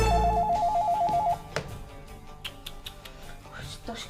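A telephone rings with a rapid warbling electronic trill for just over a second near the start, then stops, leaving quieter clicks and room sounds behind.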